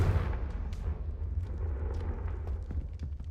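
Confringo spell blast in Hogwarts Legacy, a sustained rumbling, fiery explosion with heavy low-end roar and scattered crackles, fairly loud and continuous throughout.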